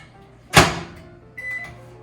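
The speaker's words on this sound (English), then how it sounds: "we're gonna put it in the microwave for 10 seconds" A microwave oven heating a lime on a plate gives a sharp clunk of the door or button, then a low steady hum with a soft beep-like tone after it, all close and loud.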